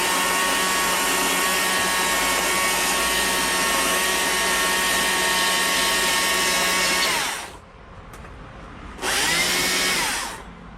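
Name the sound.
power sander or die grinder smoothing carved wood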